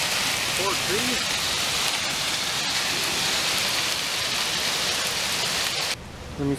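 Hail pelting down in a summer storm in Montana, a dense, steady roar that fills the clip, with a brief voice early on and a sudden drop in level near the end.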